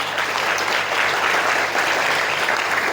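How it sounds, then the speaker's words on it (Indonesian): Audience applause at a motivation seminar for young people in Tangerang, steady dense clapping from a crowd filling the whole stretch without a break. "Tepuk tangan untuk syahidah."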